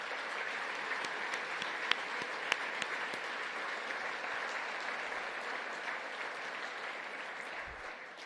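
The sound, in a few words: applause from audience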